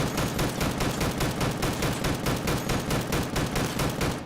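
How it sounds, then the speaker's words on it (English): Single-fire shots at a turret in the Deadside video game, a steady, rapid run of evenly spaced gunshots, loud and close, carrying on without pause and with no talking. "I'm going to go ahead and switch to single fire so we can hit our shots."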